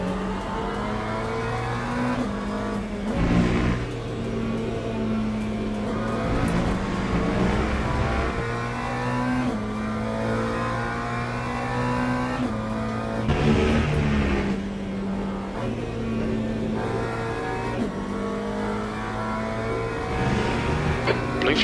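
Race car engines in the video game Le Mans Ultimate at Spa Francorchamps, a loud continuous droning whine that rises and drops with gear changes throughout.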